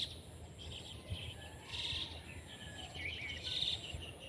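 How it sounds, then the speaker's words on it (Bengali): Myna birds chirp and call from a distance in an outdoor morning setting by a pond, faint repeated high twitters rising and falling over a quiet background. "প্রচুর পরিমাণে শারক পাখি"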